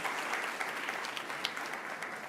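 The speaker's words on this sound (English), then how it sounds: "Let's give them a round of applause." A civic audience at a State of the City event in South Fulton, Georgia, applauds, a steady, full wash of clapping heard alone throughout.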